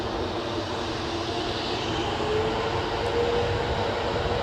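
A Loganair airliner departs Newcastle Airport with a steady, distant engine drone that holds evenly throughout, with no voices.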